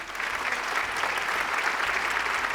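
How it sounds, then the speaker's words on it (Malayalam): An audience on a Malayalam TV game show applauds in a steady, even burst of clapping that holds for a few seconds, heard at moderate distance with no talking over it. "ഓക്കെ, നല്ല ഒരു കൈയടി"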